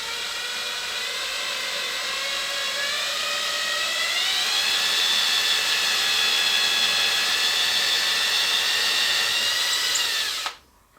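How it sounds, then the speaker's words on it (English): A power drill bores a 3/16-inch hole about half an inch deep into an incense holder, giving a steady, loud whine that rises slightly in pitch partway through, runs continuously for about ten seconds, then cuts off sharply. "I'm going to drill a 3/16 of an inch diameter hole about 1/2 an inch deep."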